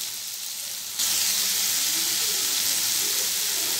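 Panch phoron, green chilli, salt and turmeric sizzle in hot oil, a steady bright hiss that jumps louder after a second and keeps crackling evenly.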